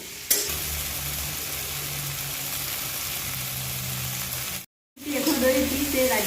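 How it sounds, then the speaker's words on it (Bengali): Okra frying with turmeric and salt in a pan for a potato-okra dish, a steady broadband sizzle with scraping stirring, briefly cutting out before resuming louder. "এরপর ধীরে ধীরে আমি ভেন্ডিটি ভেজে নেব।"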